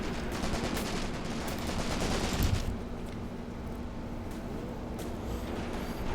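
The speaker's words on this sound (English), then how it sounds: "We are totally overwhelming them with machine gun fire, of course." Dense, sustained machine gun and mortar fire from the war game Graviteam Tactics: Mius Front rattles without pause, with a heavier blast swelling near the middle before the barrage settles back into steady fire.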